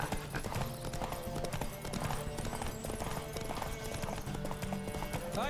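Horse hooves pounding in a race in the video game Witcher 3, a rapid galloping clip-clop kept up throughout beneath game music and a voice.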